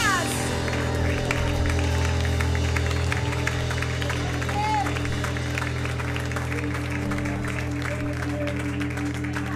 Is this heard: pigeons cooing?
no